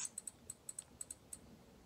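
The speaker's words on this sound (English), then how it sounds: "it will have a higher pitch clicking, hence increasing" A screen reader slider on an Amazon Fire tablet gives a series of small, high-pitched clicks, about nine at uneven intervals, faint and close, with no talking.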